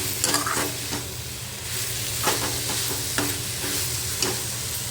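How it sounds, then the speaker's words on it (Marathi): Masala spices sautéed in a pan for a dried-fish, brinjal and potato curry give a steady, close sizzle with rhythmic stirring scrapes and clinks every second or so. "आता हे सगळं आपण परतून घ्यायचं आहे व्यवस्थित आपले मसाले परतले गेले पाहिजेत"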